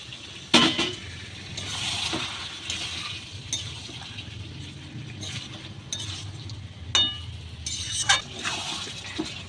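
A spoon stirs pointed gourd and shrimp curry in a pan with a low sizzle, scattered clinks and scrapes against the metal now and then.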